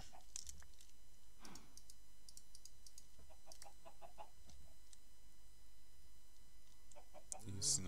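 Minecraft chickens cluck in short, scattered, faint bursts across a quiet game scene, with a little soft speech in the background.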